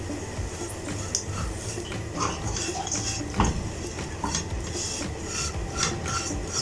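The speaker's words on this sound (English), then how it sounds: "I hope you can listen the crispiness as I am moving the bhindi into the pan" Crispy fried okra (bhindi) being stirred and moved into a pan, giving steady scraping and light crackling with occasional utensil clinks against the pan, close and continuous.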